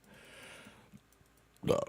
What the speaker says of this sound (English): while I burp and stuff.